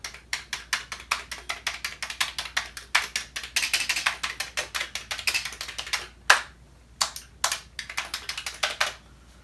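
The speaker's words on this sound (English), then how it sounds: "let's listen to some lovely keyboard sounds" Crisp, clacky keystrokes on a Commodore 64 keyboard, typed in quick irregular bursts with short pauses, close and clear.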